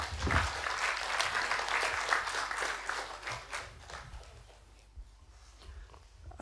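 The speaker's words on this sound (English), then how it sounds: "A clap for that." Festival audience applauding in a big, dense burst of clapping that holds steady for several seconds, then thins out and fades toward the end.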